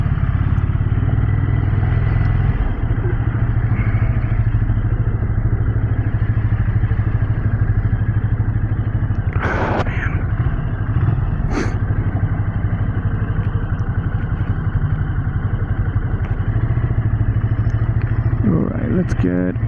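Ducati Scrambler Icon motorcycle ridden through city traffic, its engine droning steadily and loudly throughout with wind buffeting, a few sharp clicks and clatters, and other cars passing nearby.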